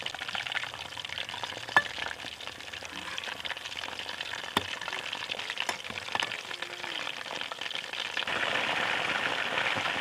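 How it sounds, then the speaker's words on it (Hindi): Chicken pakoras fry in a pan of hot oil with a steady, crackling sizzle, punctuated by a few sharp pops and a brief clink, and the sizzle grows slightly louder near the end. "इन्हें मज़ीद कुछ देर के लिए और फ्राई कर लेंगे।"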